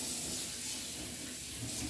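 Running tap water splashes steadily over a juicer part being rinsed, a constant close hiss with no pauses.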